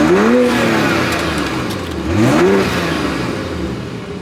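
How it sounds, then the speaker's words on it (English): A 2025 BMW X5 engine in sport mode gives two quick revs, each rising and then falling away, heard close by over a low idle between the blips. "Let's go ahead, throw it into sport mode,"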